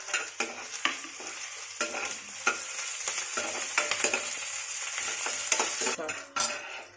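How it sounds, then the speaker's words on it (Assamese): Onion, crushed ginger and green chillies sizzle in hot oil while a spoon stirs and scrapes the pan in repeated strokes. "ৰঙচুৱা হোৱাতে ভাজিব"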